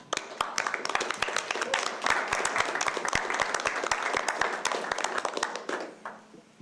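A roomful of people at a board of education meeting claps steadily, the sharp, dense hand claps filling the space for about six seconds before thinning out and stopping.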